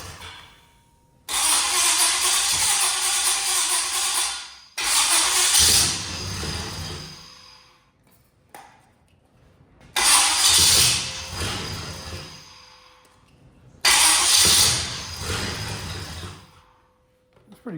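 The engine of a 1977 GMC K35 truck, checked with a timing light, roars in four separate bursts of a few seconds each, separated by short near-silent pauses, loud and close with no talking.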